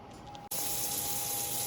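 Hot water runs steadily from a tap for handwashing, starting abruptly after a faint click and then flowing as a continuous close hiss with no talk.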